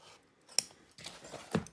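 Scissors snip through the fabric edges of an in-the-hoop embroidered zipper bag, giving a few short, close cuts, with a sharp one early on and a louder cluster near the end. Nobody speaks.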